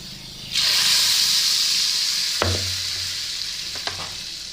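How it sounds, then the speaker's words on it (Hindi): Hot tadka tempering hits cooked chana dal with a sudden loud sizzle that hisses steadily and slowly fades, with a couple of small clinks and stirs near the pan. "अब इसमें हम तड़के को डाल देंगे"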